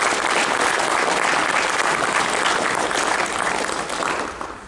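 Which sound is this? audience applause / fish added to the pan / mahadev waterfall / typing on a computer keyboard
audience applause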